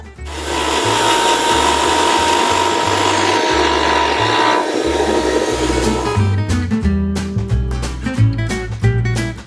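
A mixer grinder runs with a loud, steady motorised whirring with a rough grinding edge for several seconds, then breaks into choppy bursts and stops near the end.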